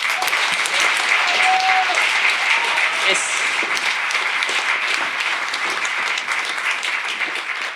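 Dense, continuous applause from an audience at the FIFDH 2026 closing ceremony fills the hall, steady and loud throughout without a break.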